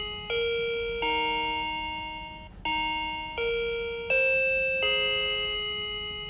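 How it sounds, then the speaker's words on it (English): An Arlec DC681 wireless doorbell chimes a series of clear, bright two-tone dings, several in a row with short gaps, each ringing and fading out. "You will hear a chime sound confirming that they have connected."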